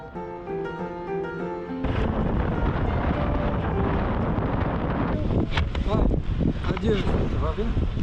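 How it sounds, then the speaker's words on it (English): Strong wind roars and buffets against the microphone on a motorcycle ride through sandy country near the Moroccan Sahara, a loud, steady rush that swells after a quieter opening, with voices talking over it. "It's kind of very windy."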